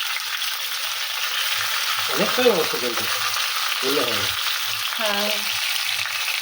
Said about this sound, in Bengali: এই যে মাংস কষাতে থাকুক।